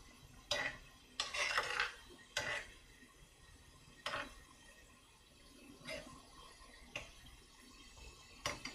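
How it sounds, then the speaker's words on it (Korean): Egg mixture for Korean steamed eggs is stirred in an earthenware pot, a spoon scraping and clinking against the pot in short irregular strokes, close and fairly quiet, with light bubbling between. "익기 시작하면 이렇게 저어주시면 됩니다"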